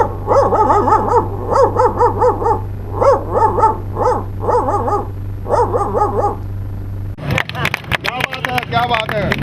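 A voice imitates an Australian dog barking at a Hindi street show, giving several bursts of bark-like yelps and growls in a steady rhythm over a constant low hum, then a brief clatter of other noise at the end.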